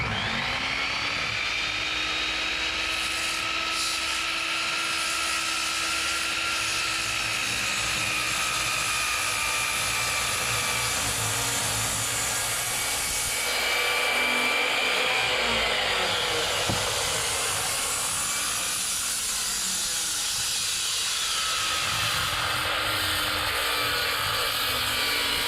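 A power saw cuts through wood on a cabin porch build, a sustained loud whining drone that shifts pitch slightly as the blade loads, with a brief dip and surge midway.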